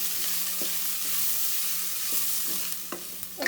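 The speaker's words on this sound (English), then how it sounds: "So we'll wait for this onion to be roasted." Onions frying in a pan with turmeric for Karnataka-style tomato rice, a steady soft sizzle with occasional light scrapes of stirring, no talk.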